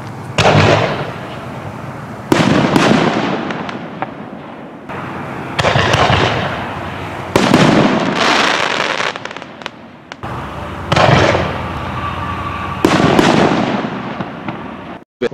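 Artillery shell fireworks named Black Widow and Zombie burst one after another, each loud blast followed by crackling and sizzling tails, about six booming shots with short gaps between them.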